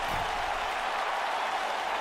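Arena crowd in the WWE 2K19 wrestling video game cheering and applauding after an upset NXT win, a dense steady roar of clapping and voices held at an even level throughout.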